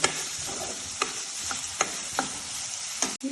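Chopped onions fry in oil for a capsicum curry, a steady sizzle broken by several scraping stirs of a spoon in the pan.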